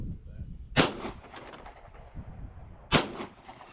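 Outdoors at a multi-gun match, a pistol fires at 100-yard steel bonus targets, two sharp, loud shots about two seconds apart, each with a short decaying tail over quiet background rumble.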